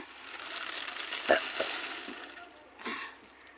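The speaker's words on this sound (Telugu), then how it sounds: "ఇక వేయించుకున్న పల్లీలు పోతాం" Roasted peanuts being tipped into a pan for peanut chikki, heard as a sizzling hiss with a few soft clattering knocks as the nuts land, then a brief stir near the end.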